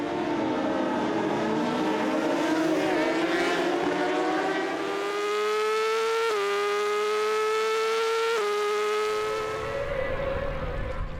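BMW superbikes launching off a race starting grid, engines screaming loudly with rising pitch and sharp gear-change steps as they pull away, a continuous close roar throughout.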